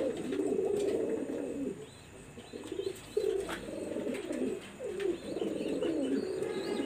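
A pet pigeon coos softly at night, a series of low, rolling throaty coos repeating in short phrases with brief pauses, close but quiet, with faint chirps from other birds behind.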